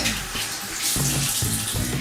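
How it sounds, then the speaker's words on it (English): Tap water runs steadily into a sink to wet hands before styling curly hair, with a continuous close splashing flow and brief interruptions as hands pass under the stream; no talking. "I just get my hands a little bit wet"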